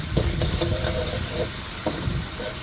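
Spatula stirring a Thai-style red-cooked beef mixture with black sesame in a frying pan, soft scraping strokes over a steady sizzle, close and continuous.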